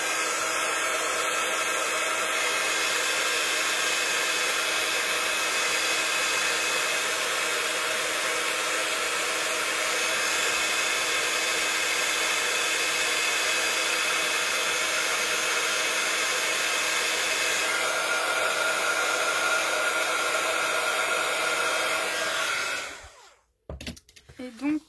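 A heat embossing gun runs steadily to melt embossing powder, blowing loud and constant like a hair dryer for over twenty seconds before it switches off near the end with some handling noise.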